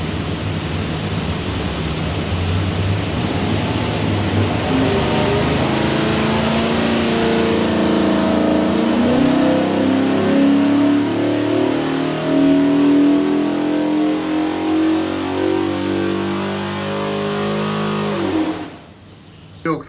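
A 347 cubic-inch small-block Ford V8 with a custom hydraulic roller cam and front-sump oil pan, bound for a '65 Mustang, revs hard on a dyno, its note climbing loud and steady for a long pull before cutting off abruptly.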